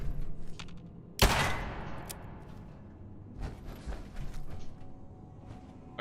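A single loud, sharp gunshot in Fallout 4 aimed at a mole rat, followed by a fading tail, a few softer clicks and scattered quieter shots against faint game ambience.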